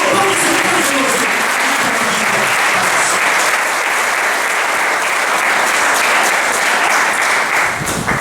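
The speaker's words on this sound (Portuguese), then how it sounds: "Dê um aplauso." A church congregation gives loud, sustained applause, a close, dense wall of clapping that holds steady for several seconds, with a few voices briefly audible early on.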